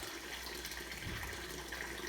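Water pours and splashes steadily out of the top of a Peerless steam boiler as oily water is skimmed off, a continuous near rushing wash with no talk.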